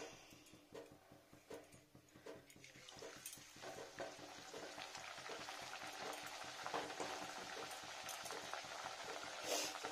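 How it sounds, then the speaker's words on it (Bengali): Puris made with spinach and radish deep-fry in hot oil, giving a steady, dense crackling sizzle with scattered bubbling pops that grows slightly louder and fuller toward the end, with no voices. "দেখুন একটু ব্রাউন শেপ করে করে ভেজে নিচ্ছি সুন্দর করে।"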